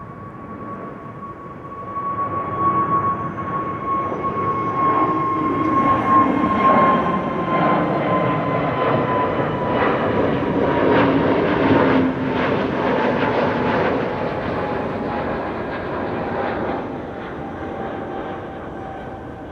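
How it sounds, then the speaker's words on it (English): A KLM Airbus A321neo jet at Schiphol rolls past with a steady engine roar and a whining tone, swelling to a peak and then slowly fading, alone with no voices. "There's the A321neo already."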